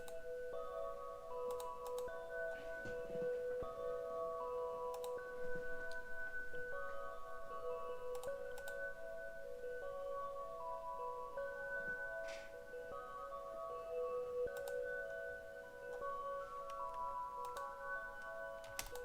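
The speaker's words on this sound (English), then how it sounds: "I'm just gonna go to Liquid Celeste, and here's what it sounds like." Omnisphere 2 Liquid Celeste synth preset playing a slow sequence of sustained, bell-like tones that overlap and ring, with soft clicky transients, alone and fairly quiet.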